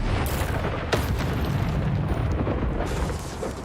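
Spell-casting explosions in a Harry Potter video game, a loud, rumbling blast and crackling burst that sustains with a few sharp transients, dense and booming throughout.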